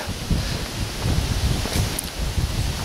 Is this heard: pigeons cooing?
no